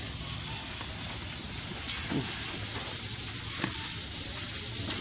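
Sausages fry on a Mexican street food stand's griddle, a steady close sizzle with occasional scraping and stirring clatter, set against faint street ambience.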